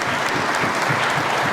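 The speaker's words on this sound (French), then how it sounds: "ça s'applaudit s'il vous plaît." Audience at a public debate on secularism breaks into steady, dense applause, a continuous wash of clapping with no voices over it.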